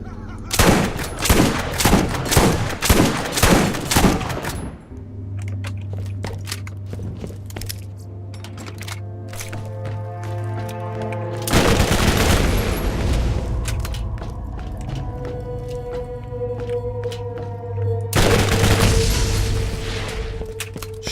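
Shotgun blasts in the video game Borderlands: a rapid run of loud booming shots, then a long sustained hum, followed by two more heavy bursts of fire with mechanical clatter.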